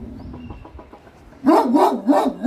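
A guard dog at a villa in Alanya, Turkey barks five times in quick succession, loud and close, after a couple of seconds of quieter background.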